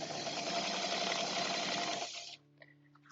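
A sewing machine stitches the seam of a 30-gallon fabric grow bag, running as a steady, close mechanical whir for about two seconds before stopping, leaving only faint residual hum.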